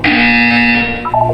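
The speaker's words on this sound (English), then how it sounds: "You will hear a buzzer." A buzzer from the video game Portal 2 sounds one loud, steady electronic drone for about a second, then falls into a short wavering tail.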